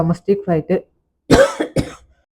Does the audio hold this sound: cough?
yes